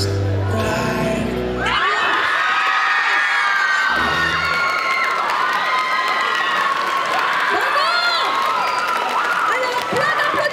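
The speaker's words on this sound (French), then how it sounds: "plein d'applaudissements" Spectators at a cosplay runway show at a Bordeaux geek convention erupt after a performance: music cuts off and loud cheering, high-pitched shouts, whoops and clapping swell and continue.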